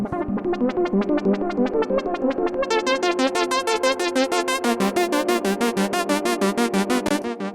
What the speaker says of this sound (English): that arpeggiated part comes in. That's just the Moog as well